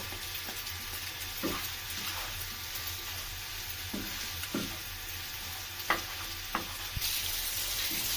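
Pasta with a fried egg nest is stirred in a pan over a low, continuous sizzle, with scattered soft knocks and scrapes of the utensil, quiet and close.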